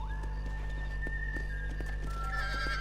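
A horse in the video game Red Dead Redemption whinnies with a long, drawn-out call over a low steady background, while soft clip-clop hoofbeats sound close by.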